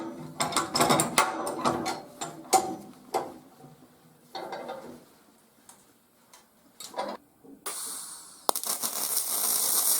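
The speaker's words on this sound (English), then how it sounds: "I'm going to swap out one of these bigger clamps for one of these littler ones so I" A metal clamp is tightened down for welding in a fabrication shop, giving rapid, uneven ratcheting clicks and metallic rattles close by, followed by a broader hissing noise at the end.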